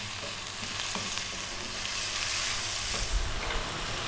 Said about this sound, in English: what we need to do is boil this out